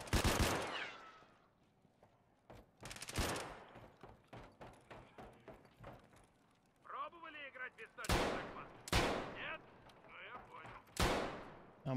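Gunfire in the shooter game Escape from Tarkov Arena, sharp loud shots and rapid bursts scattered across the span, some clustered in quick volleys, with a voice briefly heard between them.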